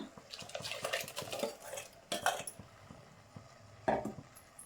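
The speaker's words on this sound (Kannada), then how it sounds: "ಈಗ ರುಬ್ಕೊಂಡಿರೋ ಮಸಾಲೆನೆಲ್ಲ ಸೇರಿಸ್ಕೊಳ್ಳೋಣ" Ground masala paste is scraped into a cooking pot for a village-style sprouted horse gram sambar, with metal spoon clinks and scrapes against the pot, a few sharper knocks standing out, and no talking.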